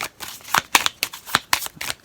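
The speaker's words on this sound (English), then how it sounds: "While we're shuffling, let's go in a few other messages." Tarot cards being shuffled by hand in quick, crisp riffles, about seven or eight short bursts in a steady rhythm, close and clear with no talking.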